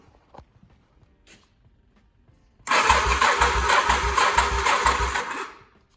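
A 1985 Honda Shadow 750 motorcycle, choke applied, coughs into life after quiet clicks, then idles loudly and roughly nearby with a pulsing uneven beat for a few seconds before cutting out.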